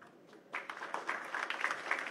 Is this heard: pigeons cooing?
no